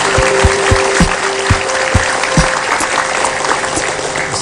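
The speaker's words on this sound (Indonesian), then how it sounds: "Boleh tepuk tangan." A studio audience applauds loudly on a television talk show after a knife-throwing performer's introduction. The clapping is dense and sustained for several seconds, with a steady tone and a few deep thuds underneath.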